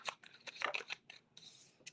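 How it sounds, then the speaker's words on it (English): Tarot cards are shuffled in quick, uneven bursts of papery riffles and slides, close and fairly quiet, with short pauses between handfuls. "One more shuffle for Leo placements."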